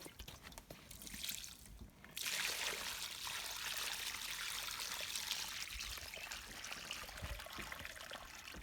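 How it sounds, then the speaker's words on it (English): Water is poured into a newly fitted gutter at a campsite as a test, a steady splashing trickle that swells after a couple of seconds and runs on continuously, close by with no talking. "I've got a little bit of water here to test it, which I'm going to pour in here."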